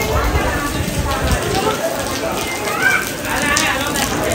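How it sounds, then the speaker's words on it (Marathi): Steady, moderate rain patters across the open grounds of the Global Vipassana Pagoda in Mumbai, an even wash of drops close around with a person speaking over it. "इथे पाऊस थोडा कमी झाला आहे."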